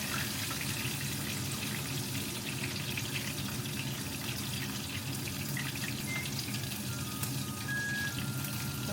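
Pot of water boiling on a stove for cooking broccoli, a steady, dense bubbling hiss that holds at an even level throughout, with no voices.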